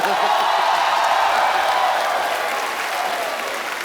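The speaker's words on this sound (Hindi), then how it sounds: "लेकिन एक बार दोबारा तालियां बंदी" A studio audience applauds on a comedy talk show, dense steady clapping that is loud at first and gradually fades slightly over a few seconds.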